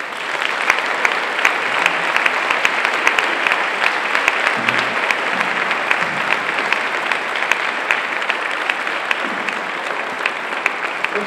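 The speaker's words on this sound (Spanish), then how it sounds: "les pido un fuerte aplauso" A large outdoor audience at a band gathering in Guía applauds steadily and loudly for over ten seconds, a dense continuous wash of clapping with no pauses.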